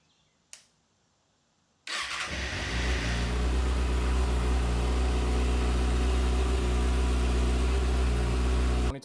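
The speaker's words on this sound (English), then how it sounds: "stock muffler cold start." After a brief click and silence, a 2025 Kawasaki ZX-6R with stock muffler cold starts, cranking and firing up, settling into a steady, loud, high idle.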